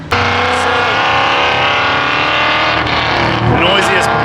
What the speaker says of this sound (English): The noisiest bloody Mustang in the history of Mustangs.